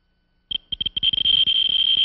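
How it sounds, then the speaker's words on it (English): A Geiger counter tube clicks in response to gamma rays from uranium held close to the microphone: a few sparse, sharp beeps that quickly speed up into a loud, near-continuous rapid chatter. "You hear a little beep. I'll hold it close to my microphone."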